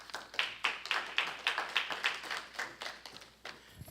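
Scattered audience clapping at a live-streamed caregiver advocacy event, a few hands striking in an uneven rhythm of distinct claps for several seconds at moderate distance, fading out near the end with no talk.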